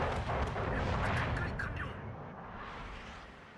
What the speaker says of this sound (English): 3 torpedo hits on the Immelman.